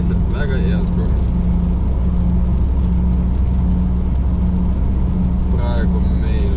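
Alfa Romeo with a 1.4 turbo petrol engine cruising at 90 km/h, a steady low engine hum and road drone heard from inside the cabin as someone talks over it.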